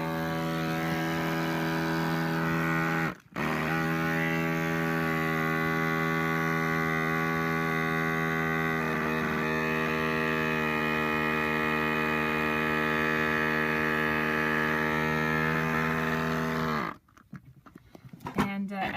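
A homemade DIY goat milking machine's vacuum pump runs with a steady droning, harmonic hum. It cuts out briefly near the start, then keeps going evenly until it stops near the end.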